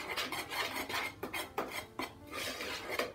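A utensil scrapes and rasps against the side of a bowl, stirring dry baking ingredients such as sugar and baking powder in quick, repeated strokes that sound close and fairly quiet.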